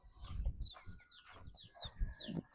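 Farm chicks peep in quick, high chirps amid soft clucking from poultry, faint and fairly close, with no talking.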